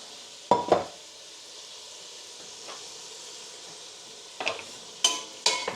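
Potatoes fry in melted butter in a pot for leek and potato soup, with a few sharp spoon scrapes and clinks against the pot over a soft, steady sizzle.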